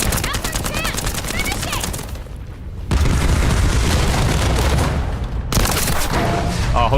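Gunfire blasts away in The First Descendant, with dense rapid bursts and heavy booms that run almost continuously, dip briefly, then resume loudly, and voices can be heard under the shooting.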